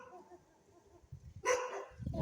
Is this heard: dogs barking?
yes